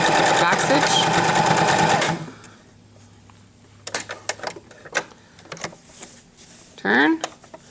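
A sewing machine stitches and back stitches a duck pillow in a loud rapid burst for about two seconds, then stops, leaving quiet clicks, fabric handling and a brief final whir of the motor amid faint talking.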